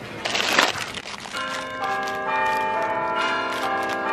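Cartoonish bell sound effect in a comedy skit: a brief crumpling burst gives way to bright, sustained ringing bell tones that shimmer and decay in layers, fairly loud with no talking.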